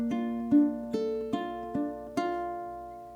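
Ukulele plays a short passage from the 11th measure of an etude built on hammer-ons and pull-offs: five plucked notes, each ringing clearly into the next, played alone and close.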